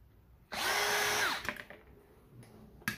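A power drill whirs loudly for about a second, spinning up and winding down while scrapping for brass and copper, followed by a few quieter clicks and knocks.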